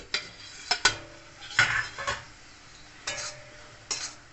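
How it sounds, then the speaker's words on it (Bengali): A pan of red amaranth greens being covered with a lid: a few scattered metallic clinks and taps, close but fairly soft, spaced apart over quiet background. "দিয়ে আমি চাপা ঢাকা দেব।"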